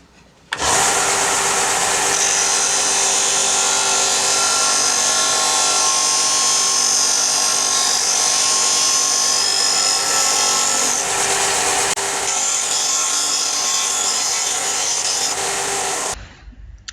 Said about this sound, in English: So I'll just demonstrate the disc part. I've just drawn a curve on this so you can see how well it sands.